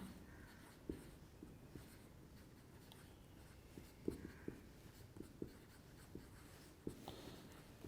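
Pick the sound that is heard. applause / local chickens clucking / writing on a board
writing on a board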